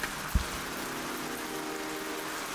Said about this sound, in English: In the gloom of the rain